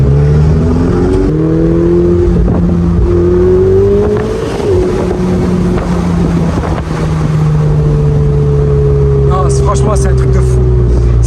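A Ferrari 488 Spider engine revs and holds a loud, close drone with rising and falling pitch, while people talk over it.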